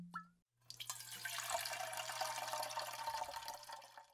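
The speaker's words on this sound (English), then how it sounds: "let's pour one out." A mixed drink of passion fruit water and other ingredients is poured into a glass, giving a continuous close liquid splash and trickle that starts after a brief pause and runs steadily to the end.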